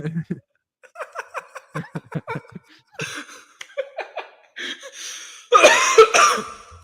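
A person laughs in short bursts that break into a harsh coughing fit near the end, close to the microphone.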